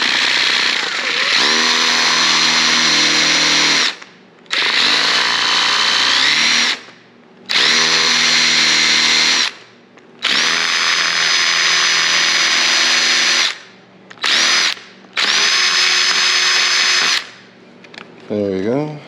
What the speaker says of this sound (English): I just gotta trim my hole a little bit more for the latch.